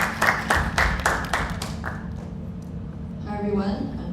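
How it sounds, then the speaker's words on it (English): Brief clapping from a university campus speaker-series audience, a handful of distinct claps over about two seconds before a voice takes over. "Give her a round of applause."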